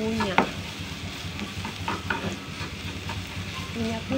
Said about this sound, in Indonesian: bawang putihnya dicincang-cincang. Kita goreng-goreng sampai kuning ya